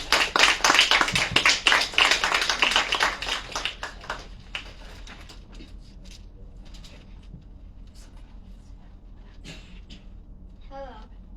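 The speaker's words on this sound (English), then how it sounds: "Let's give them a round of applause." A school audience at a Kid Governor library event at McAlister School bursts into loud, dense applause for about four seconds, then the clapping thins and fades into quiet room sounds with a few scattered taps.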